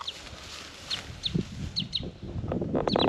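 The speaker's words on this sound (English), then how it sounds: "Such a small bird." Short, high chirping calls from a small bird, repeated in quick scattered notes over a soft background with low clucking sounds.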